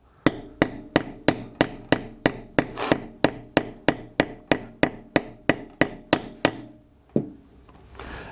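Steady hammer blows on a metal letter stamp strike about twice a second, around twenty sharp loud hits in a row, then a pause and a fainter knock.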